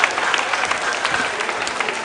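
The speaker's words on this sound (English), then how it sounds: "A round of applause" Steady applause from a quiz show audience, a dense wash of clapping that holds at an even level throughout without any talking over it.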